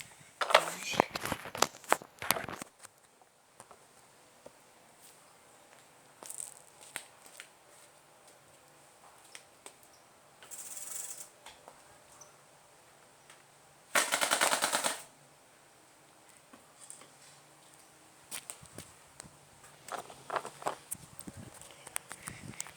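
A bicycle fitted with a noisemaker rattles in loud bursts of rapid clattering as it is ridden, separated by quieter stretches, with someone talking between the bursts.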